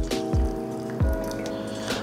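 Water goes into a Korean BBQ galbi marinade, about 1¾ cups, with short wet sloshes and drips at close range, a few quick liquid splashes within two seconds.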